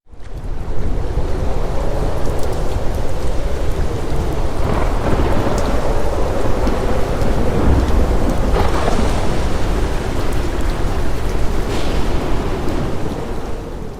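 Heavy rain pours steadily while deep thunder rumbles and rolls, swelling loudly near the middle, with no voices.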